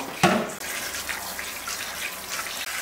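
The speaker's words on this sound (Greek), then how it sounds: "Θα τους βάλω κρύο νερό να τα ξεπλύνεις" Cold water gushes from a kitchen tap to rinse boiled food before peeling, opening with a brief clatter and then running as a steady, close, splashing stream.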